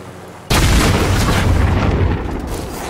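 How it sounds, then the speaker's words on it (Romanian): A helicopter blows up in Call of Duty Warzone with a sudden loud, close boom that stays as a heavy rumbling roar for about two seconds before slowly dying away. "Ce-a bubuit? Elicopterul care am venit eu."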